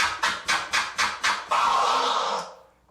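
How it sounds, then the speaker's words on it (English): Turntable scratching cut with the mixer fader into sharp, evenly spaced bursts, about six quick cuts, followed by one longer sustained scratch that trails away. "once I incorporate the fader, it sounds like this"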